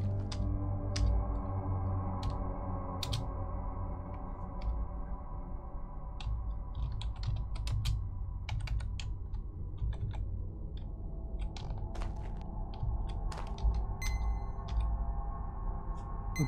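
Sparse clicks of typing on a computer keyboard, scattered keystrokes tapping irregularly and faintly over a low hum of game background sound.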